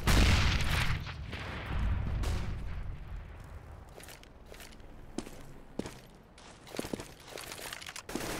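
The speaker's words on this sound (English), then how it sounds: "Oh, that nade does a lot of damage to Shoxy." A grenade blast in a CS:GO pro match between Team LDLC and Na'Vi, a loud low boom with rumbling tail at the start, followed by scattered footsteps and sharp gunshot clicks from the game.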